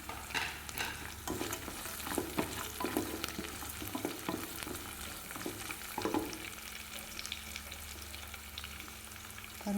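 Cashews and dried red chillies fry in oil in a pan for a spinach-style rice dish, a close steady sizzle punctuated by repeated spoon stirs and scrapes, no talking.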